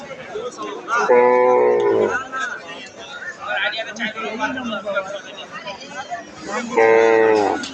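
A four-toothed crossbred cow moos loudly at a rural cattle haat, two long close bellows at the start and end with someone talking between them and faint crowd chatter behind.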